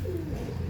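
A single short, low coo from a pigeon kept as breeding stock, close and fairly soft against a steady background murmur.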